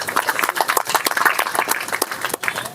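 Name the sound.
audience applauding at a memorial service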